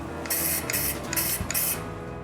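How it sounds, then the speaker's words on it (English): Four short hissing bursts from a spray can of wood finish onto a wooden cryptex, each about a quarter to half second long, close and loud with brief pauses between. "When the glue is dry, I spray another coat of finish."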